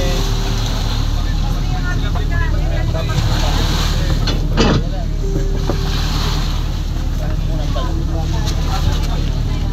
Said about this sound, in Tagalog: dadaong na po ang bangkang di motor dito sa Isla Verde